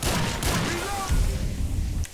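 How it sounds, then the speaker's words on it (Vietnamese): Sweeper shotgun blasts in GTA 5 come as a few heavy, booming shots in quick succession, loud and close, with a player's voice partly under them. "Sweeper shotgun"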